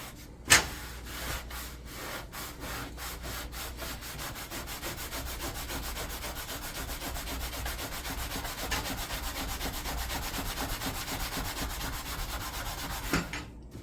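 A scrub brush or sponge scours a stovetop in continuous back-and-forth strokes, producing a steady, gritty rubbing rasp with a few quicker strokes at the start, close and alone.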